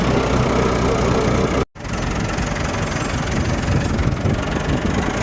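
A 398 tractor engine idles with a loud, steady low rumble and faint knocking, heard up close on the way to a vineyard. The sound cuts out for a brief moment, then carries on unchanged.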